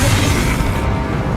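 Confringo blasting spell exploding in the video game Hogwarts Legacy, a loud, dense low boom sustained for over a second with rumbling debris, no voices.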